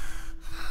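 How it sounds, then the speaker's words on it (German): Breathing close in the ear from the horror video game Wick: a short, airy intake with a soft, hissing texture over a steady background hum, with no speech. "Auf mir ins Ohr zu atmen. Das ist ja ekelhaft."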